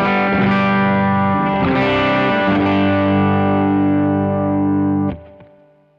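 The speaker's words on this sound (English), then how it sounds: "this is the more or less clean tone from the amp" Electric guitar played through an amp on a mostly clean tone, loud, full chords strummed and left ringing for about five seconds, then cut off and dying away quickly.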